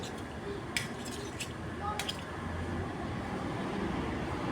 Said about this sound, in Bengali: খুব ভালো করে নাড়িয়ে দিলাম